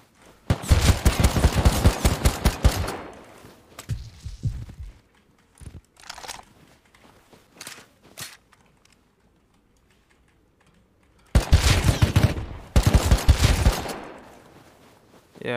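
Rapid bursts of AK rifle fire in the survival game Rust, two long close sustained volleys with scattered single shots and brief gaps between them.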